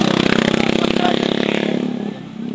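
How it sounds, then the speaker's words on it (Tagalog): A motorcycle engine, borrowed from a relative, runs and revs loudly up close with a steady pulsing throb, then dips slightly near the end. "Flex ko lang po yung motor natin ginamit."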